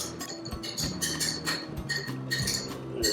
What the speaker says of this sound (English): we'll just stir that up just a little bit just to break that up